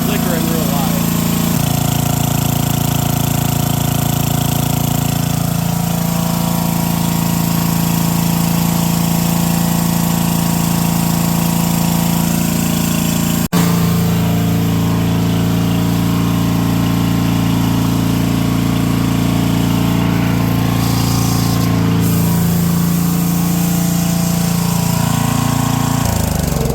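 A junkyard light machine's engine runs loud and steady close by, a rough mechanical hum with a brief break midway, while a person talks over it.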